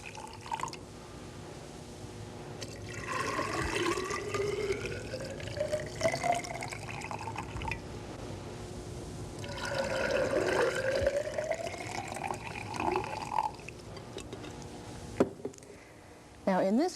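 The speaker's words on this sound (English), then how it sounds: "Now, if we fill each with a liquid, water, we'll have both solute and solvent in each cylinder." Water pours into graduated cylinders in two long streams, and the pitch climbs steadily as each one fills. Someone speaks quietly in the background.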